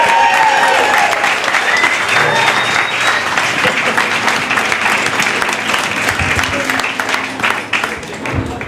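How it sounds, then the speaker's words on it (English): An audience applauds loudly and steadily at a film festival career conversation with Greg Kinnear in Sarasota, the clapping sustained throughout and tapering slightly at the end. "Let's have a round of applause, please."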